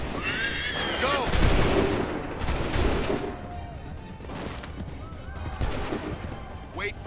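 Musket volley fire from soldiers in Assassin's Creed III, several loud broadband gunshot bursts spaced a second or so apart, mixed with horse whinnies and commands shouted in between.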